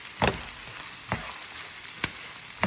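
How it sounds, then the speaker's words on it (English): Onion and vegetables sauteing with pancetta in a pan for a Bolognese, a constant hissing sizzle punctuated by four sharp knocks or scrapes of stirring at irregular intervals, with no talking. "Let those saute for 3 or 4 minutes to soften a little bit."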